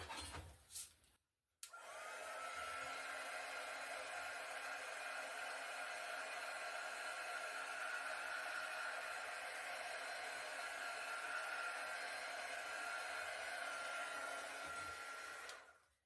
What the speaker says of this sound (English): now I'm going to hit this with a heat gun